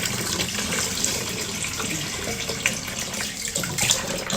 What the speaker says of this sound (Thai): ล้างน้ำให้สะอาดอีกทีโอเคไหม